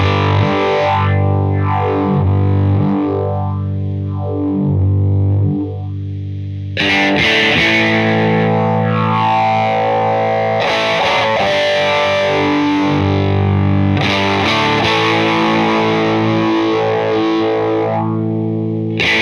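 Distorted electric guitar through a Fairfield Circuitry Long Life pedal with an EQ dip and hump, playing sustained chords and swept notes with a few pauses, loud and up close with no talking.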